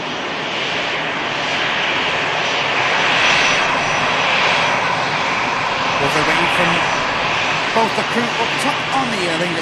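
An Aer Lingus jet airliner turning off on a rapid exit at Manchester Airport gives a sustained, fairly loud engine roar, with a voice briefly audible over it near the end.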